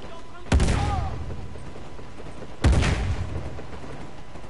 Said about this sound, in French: Qui c'est qui tire comme ça déjà, comme un bourrin?